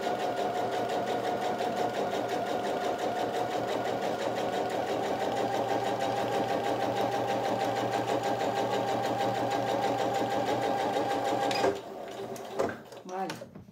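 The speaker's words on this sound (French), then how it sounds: "Et je fais une petite surpiqûre sur toute la longueur pour bien fixer ma marge de couture au dos de la pièce" A sewing machine topstitches along the full length of a fabric pencil case seam, running in a steady, continuous whir for about twelve seconds before stopping abruptly, followed by a few faint handling knocks.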